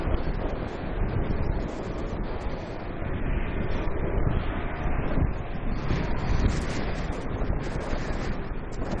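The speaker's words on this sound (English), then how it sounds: "The wind is definitely increasing." Strong wind gusts across an open airport, buffeting the microphone in a continuous loud rumble with shifting surges, and no one speaking.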